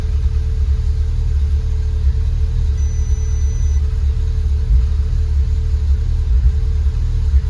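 An Audi S3 8V from a 622bhp build runs with its battery and most of the front end off, giving a steady low engine rumble that idles evenly and fairly close throughout.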